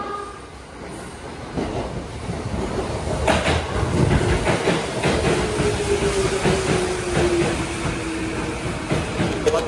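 A Tokyo Metro Tozai Line train rumbles into a station platform with rising wheel noise and a long metallic brake squeal, loud and close throughout.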